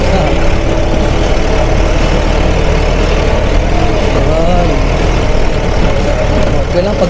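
Tractor engine running on an unpaved, rain-softened rural road near sugarcane fields, a loud, steady low rumble with no pause throughout, close to the listener, with some faint talk beneath it.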